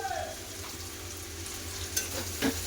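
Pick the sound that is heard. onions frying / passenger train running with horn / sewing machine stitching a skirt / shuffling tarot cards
onions frying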